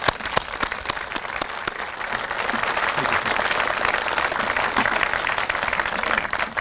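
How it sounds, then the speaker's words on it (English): Audience applauding officer candidates at an Officer Candidate School Hall of Fame induction ceremony, a steady wash of many hands clapping at even loudness throughout, with some indistinct crowd noise. "I think we owe them a round of applause"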